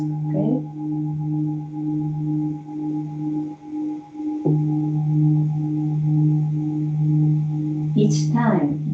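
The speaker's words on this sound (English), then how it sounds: "I hope you can listen to bongs or to sounds like this" Resonant meditation bong tones ring during a yoga class, with two long sustained strikes humming steadily while a voice speaks softly over them near the end.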